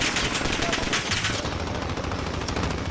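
Gunfire in a ground-war video game: continuous rapid automatic bursts, dense and loud, layered with overlapping shots and battle noise throughout without pause.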